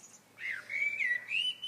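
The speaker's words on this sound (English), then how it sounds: "Can you hear that bird? It's fucking noisy." An outdoor bird gives a few clear, rising and falling whistled chirps in quick succession, bright and fairly close against a quiet background.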